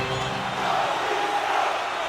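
Steady crowd noise from a hockey arena in the video game NHL 26, a continuous broad roar of spectators holding at a moderate level through a tie game's late going.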